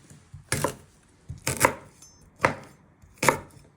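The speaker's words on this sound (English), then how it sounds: "you want to chop it into little pieces" A knife chops fresh ginger finely on a cutting board in four sharp, evenly spaced strikes, close and crisp against a quiet background.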